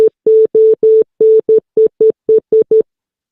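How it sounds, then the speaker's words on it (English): The call sign W5NOR is sent in American Morse code as a single loud, steady tone keyed into a quick string of short and longer beeps. It plays alone and ends in silence. "Here it is in American Morse."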